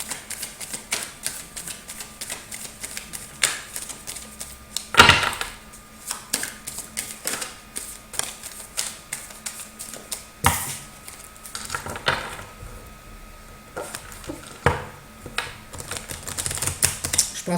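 Oracle cards being shuffled by hand make dry clicking and riffling taps in an irregular rhythm, close and fairly crisp, with occasional louder slaps of the deck.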